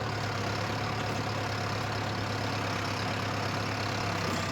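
Steady idling rumble of a Sonalika 65 hp CRDI tractor diesel engine set up with a single MB plough, a constant low drone with no voices over it.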